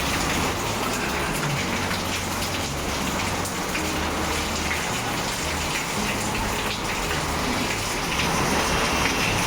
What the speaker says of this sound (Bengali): এখানে বৃষ্টি শুরু হয়ে গেছে দেখছো